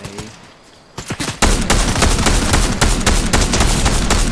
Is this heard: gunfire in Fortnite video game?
yes